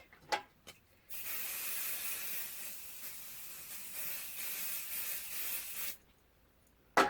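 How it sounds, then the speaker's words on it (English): An aerosol spray can running out hisses in one long sputtering burst for several seconds, broad and airy, with a couple of short puffs before and after. "Actually running out of spray on that one, you can hear it"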